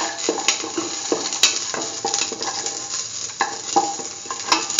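Garlic pieces frying in a pan with salt, a constant sizzle broken by repeated scrapes and clinks as a spoon stirs them around the pan.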